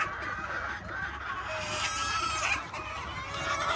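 Local chickens on a poultry farm, many birds clucking and chirping together in a busy, continuous chorus at close range, with no talking.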